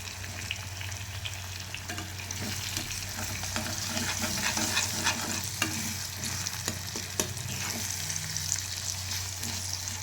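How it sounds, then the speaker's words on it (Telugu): Onions, green chillies and cumin frying in oil for egg rice, a continuous close sizzle with occasional stirring clicks and scrapes, and no talking. "చూసారా ఎలాగ వేగుతుంది."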